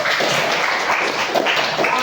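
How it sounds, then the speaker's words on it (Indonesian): A classroom of students claps steadily for a classmate's answer, a dense, even patter that holds at one level for about two seconds. "Oke, tepuk tangan untuk jawaban temanmu."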